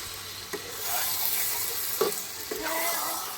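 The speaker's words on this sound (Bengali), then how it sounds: "কাঠের জালে মাংস হলে এই একটা মজা টকবক" Meat cooks in a pot over a wood fire at a rooftop family picnic in winter, a steady close sizzling bubble with a few soft knocks and no voices.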